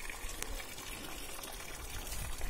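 Water pouring and splashing onto garden plants during summer watering, a soft continuous trickling gush that stays fairly faint and steady throughout.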